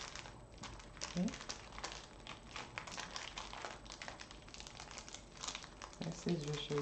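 Plastic bags of diamond painting drills crinkle and rustle close up as they are opened without being cut, a steady busy crackle with soft taps and a brief voice toward the end.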